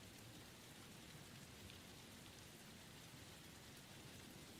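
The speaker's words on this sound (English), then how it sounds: "Yeah, the rain is fitting." Steady rain falls as a faint, even hiss that continues without a break, with no other sounds above it.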